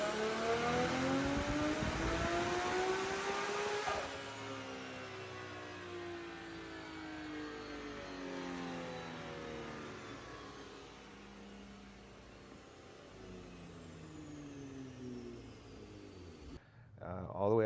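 A built BMW S55 engine with forged rods and pistons, ported head and cams, screaming up to 8,500 RPM in a loud, rising wail that cuts off sharply and drops into a lower, fading drone, with a voice talking afterward.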